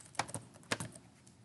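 A few quick keystrokes on a computer keyboard, soft clicks in a short irregular burst, close and quiet with no talking.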